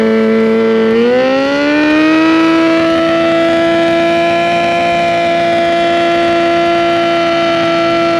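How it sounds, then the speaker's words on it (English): A motorcycle engine is revved hard in first gear with the brake held for a burnout, giving a loud, sustained whine. The pitch climbs quickly in the first second or two, then holds steady and high to the end. "Go ahead and rev it up."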